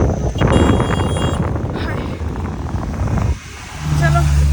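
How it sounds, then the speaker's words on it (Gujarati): Strong wind buffets the microphone with a heavy roar while someone walks holding an umbrella, easing briefly near the end before gusting again; a voice calls out under it. "હવા બહુ આવી રહી ઓ માં ઓ માં ઓ માં છત્રી ઉડી જશે મારા હાથમાંથી"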